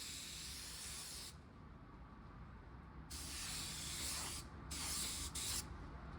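A spray gun lays colour onto a car panel in an automotive paint job: a close, loud airy hiss in bursts, stopping briefly between passes and then resuming.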